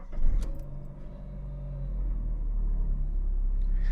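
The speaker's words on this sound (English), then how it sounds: "we shall start up the engine" A Chrysler Neon's engine cranks and starts up, then settles into a steady, rough low rumble of idling that continues at a constant level.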